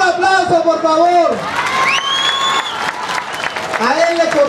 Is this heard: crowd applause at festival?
yes